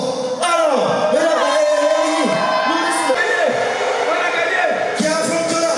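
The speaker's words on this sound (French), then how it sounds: "ceux qui sont pour la team Guinée, quand je dis le nom, criez fort" An audience at a live comedy match shouts for team Guinea, a loud crowd roaring and whooping in repeated swells over several seconds.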